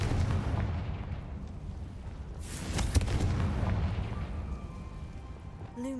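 An explosive Confringo spell cast in a Harry Potter video game bursts with a loud, dense boom and crackling rumble, a sharp blast near the middle standing out over continuous low roaring.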